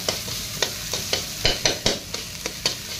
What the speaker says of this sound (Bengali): পেঁয়াজগুলো হাফ ফ্রাই হবে, হাফ ফ্রাই